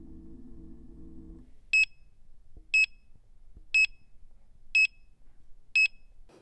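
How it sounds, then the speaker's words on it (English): SuperRide S1000 emitting five short, sharp electronic beeps evenly spaced about a second apart, clear and close against a quiet background after a brief low rumble at the start. "press the battery button down till the S1000 beeps 5 short beeps"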